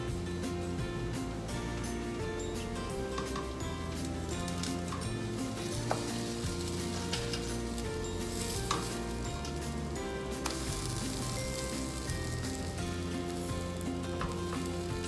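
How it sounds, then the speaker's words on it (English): Protein pancakes sizzle and fry in a pan, a steady close hiss running throughout with faint stirring or scraping over continuous music. "those pancakes are starting to cook. They start to bubble up around the top"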